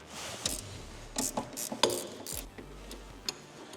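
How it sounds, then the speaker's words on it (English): Ratchet working on the wheel nuts of a Nissan Micra rally car being changed to a gravel setup, with scattered short clicking bursts and metallic clanks between pauses, fairly quiet with no talk. "So firstly, I'm going to loosen everything and then I'm going to pull it off."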